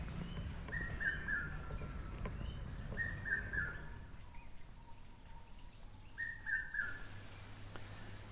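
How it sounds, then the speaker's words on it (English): A Meyer's Parrot calls from trees beside a small stream in Lilongwe, Malawi, giving three separate shrill, screechy notes spaced a few seconds apart over a steady hum of distant background noise. "A Meyer's Parrot."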